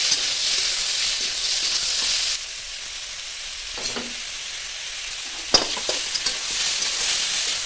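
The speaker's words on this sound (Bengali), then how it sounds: "কড়াইয়ের মধ্যে তেল দিয়ে তার মধ্যে আদা রসুন কুচি, পেঁয়াজ কুচি, টমেটো কুচি, শুকনো লঙ্কা, হলুদ আর স্বাদ মতো লবণ দিয়ে ভালোভাবে ভেজে নিতে হবে" Ginger, garlic, onion, tomato and dried chilli fry in oil in a wok with turmeric and salt, a bright steady sizzle that drops away midway, then a sharp clatter and renewed hissing.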